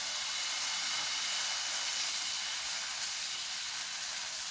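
Green mung bean dosa batter sizzles on a ghee-greased tawa, a steady close hiss that holds evenly from start to end with no voices.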